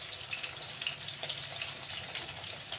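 Grits simmer in a pot, a soft steady bubbling and faint sizzle with small irregular pops, close and fairly quiet.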